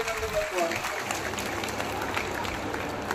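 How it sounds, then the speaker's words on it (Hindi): Applause and crowd noise from a village public meeting greeting the women and child development minister, a dense continuous clapping heard at moderate distance, with voices mixed in. "जोरदार तालियों के साथ मंत्री जी का अभिनंदन करता हूँ"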